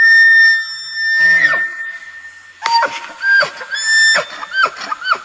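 A bull elk bugles during the rut, a loud high whistling call that rises and falls, followed by a series of rough grunting chuckles, heard close and clear with no other sounds.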